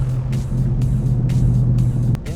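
A tuned 250 hp VW 1.4 TSI car pulls hard in third gear, with a loud steady engine drone and a deep low rumble from inside the cabin. The note cuts off abruptly near the end.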